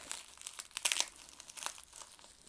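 Bubble wrap around K-pop albums crinkles and crackles as a mailed package is opened, with busy, uneven rustling and a few louder crunchy bursts, close and fairly quiet, with no talking.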